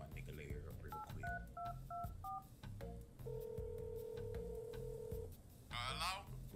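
A phone number is dialed in quick beeping keypad tones, five short beeps followed by a long steady ringback tone, set in an anime scene with a breathy voice heard at the end.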